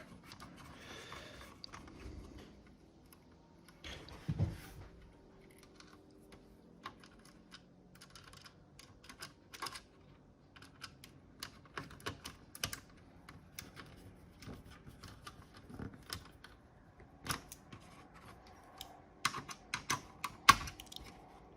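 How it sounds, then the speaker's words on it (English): Keys on a dirty Amstrad 464 Plus home computer keyboard being cleaned in place, giving quiet, irregular clicks and taps that come in scattered bursts, with a few sharper knocks along the way. "And I'll just clean these keys. I'm not going to remove them."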